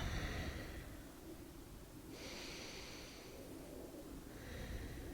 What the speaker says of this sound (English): Breathing deeply, take a couple deep breaths.